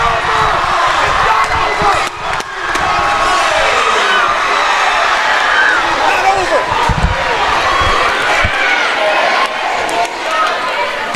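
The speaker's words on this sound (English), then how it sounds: "The crowd goes crazy." A packed high school gym crowd at a boys' basketball regional roars after a made layup, a loud, sustained wall of cheering and shouting with a few sharp thumps and knocks.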